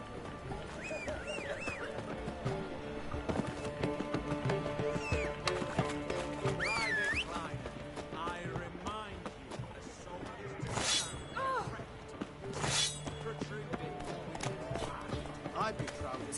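Roach, the horse in The Witcher game on PS5, clip-clops along with steady rhythmic hoofbeats under game music, with occasional neighs and a sharp crash partway through.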